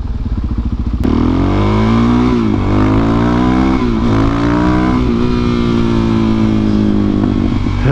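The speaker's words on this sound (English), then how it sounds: "Hey, a biker." A motorcycle passes close by, its engine loud and revving with rising and falling pitch as it goes by, heard on its own without speech over nearly eight seconds.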